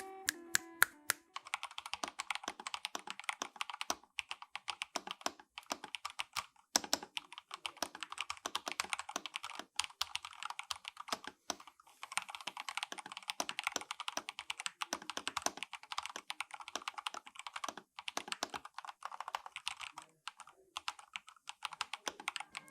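Steady, rapid clicking of keys on an IQUNIX A80 mechanical keyboard with TTC Speed Silver switches, close and continuous with brief pauses, no talking.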